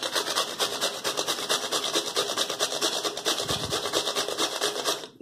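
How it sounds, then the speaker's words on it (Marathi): Ridge gourd rasped steadily against a metal grater at close range, a fast continuous scraping rhythm of even strokes that fills the whole stretch with no talking. "पूर्ण दोडका किसून घेऊया।"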